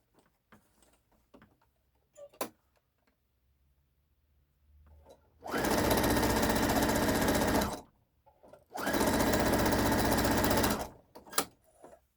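A sewing machine stitches down a pleat on a lacy pinafore top in two loud, steady bursts of a couple of seconds each, separated by quiet handling clicks and a short pause.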